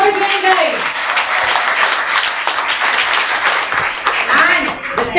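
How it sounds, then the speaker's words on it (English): An audience at a kids' talent hunt public-speaking event applauds steadily after a trophy presentation, a dense, even wash of clapping that lasts throughout, with voices and a few cheers mixed in. "Can we have a round of applause again, guys?"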